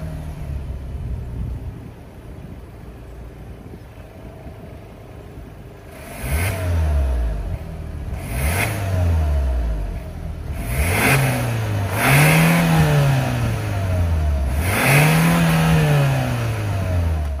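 A 2024 Hyundai Santa Fe's 2.5-liter turbocharged four-cylinder idles quietly, then is revved five times in rising, spaced bursts, each climbing and falling back, the later revs longer and louder.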